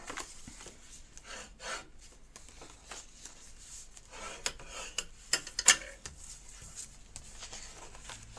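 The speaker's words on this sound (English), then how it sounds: "So I'm going to burnish these edges now." Card envelope edges burnished by hand give soft, close rubbing strokes in short, uneven bursts, with a few sharper scrapes, fairly faint overall.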